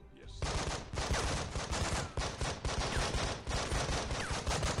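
Rapid, sustained gunfire from a Breach & Clear tactical shooter mission, with dense bursts of shots that stay loud and close through the whole stretch and leave only brief gaps.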